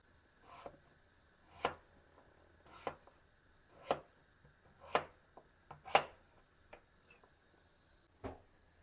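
A knife chops through a hard pumpkin in slow, separate strokes, about nine sharp cuts with pauses between them, close and fairly quiet.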